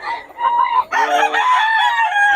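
A Sweater Henny gamefowl rooster crows loudly and close by in one long drawn-out call, with a short clucking lead-in before the crow.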